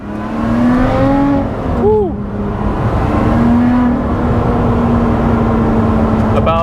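A Lotus Exige sports car engine drones loudly and steadily, its pitch rising and briefly dipping as it shifts, close by with a sustained roar.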